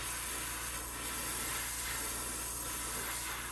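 Spray paint hissing onto a square bill crankbait fishing lure, a continuous steady airy hiss close by, unbroken for several seconds with no talking.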